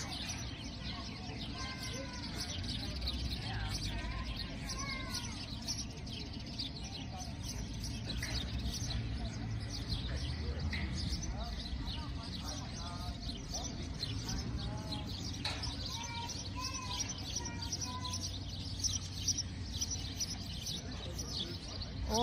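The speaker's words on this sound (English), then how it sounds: "The sounds of the birds." Birds chirp and sing with a scattering of faint, brief tweets and a few soft calls spread across a quiet outdoor background, distant rather than close.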